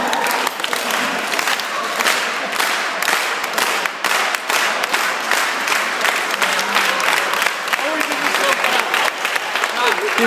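Wedding guests clapping together in a slow clap, a dense, steady wash of applause from a crowd that fills the room and runs throughout, with no clear break.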